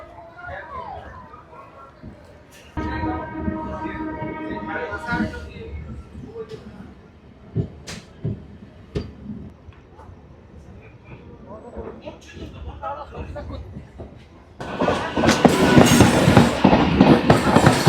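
A Kharagpur–Adra MEMU passenger train pulling away and running on the Bankura–Jayrambati line, heard from inside with rumbling, clicking wheels and a horn-like tone, building to a louder roar near the end, with voices around.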